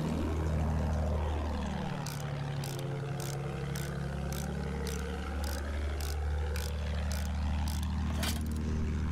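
A World War I attack plane in Battlefield 1 drones loudly overhead, its propeller engine sweeping in pitch as it passes, with steady rapid gunfire clattering over the roar.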